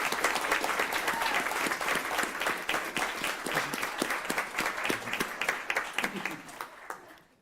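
Audience at a school board meeting claps for a student named artist of the month, steady applause with individual claps standing out, thinning and fading toward the end, with some voices mixed in.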